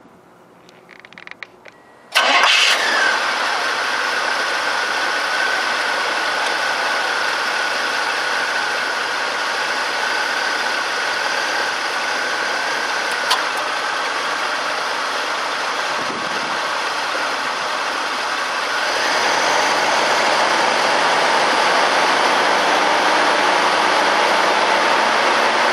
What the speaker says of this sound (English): We'll start the motor and listen to it run.